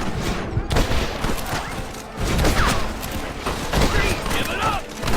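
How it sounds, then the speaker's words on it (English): Gunfire crackles through a shootout in the video game Red Dead Redemption, with rapid overlapping shots and bursts over several seconds, mixed with shouting voices. "Come on, shoot them!"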